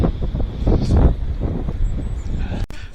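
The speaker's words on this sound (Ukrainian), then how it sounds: "такий вітер сильніший" Strong wind buffets the microphone in a continuous rough roar, with gusts swelling and easing throughout and no voices.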